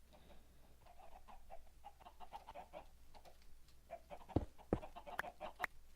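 Chickens in a video game clucking, a series of short repeated clucks over a quiet low hum, soft at first then a few sharper, louder calls toward the end.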